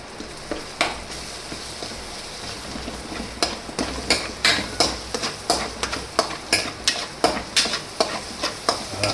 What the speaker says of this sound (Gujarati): સેજ પાકી જાય ને ત્યાં સુધી હલાવતા રહેવાનું